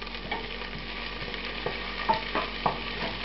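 Sliced white onion and paprika frying in foaming butter in a pan over medium heat, a close steady sizzle with a few stirring clicks and no voices.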